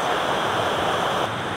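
A stream tumbles down a run of steps as a dense, steady rush of water close to the microphone, with a little wind buffeting and no voices.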